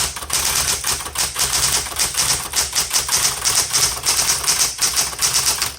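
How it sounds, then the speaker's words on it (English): Rapid typing on a 1970s Smith Corona Electra 210 electric typewriter, with crisp keystrokes striking in a steady, busy rhythm over the machine's constant motor hum, close and fairly loud throughout. "So this is a 1970s Smith Corona Electra"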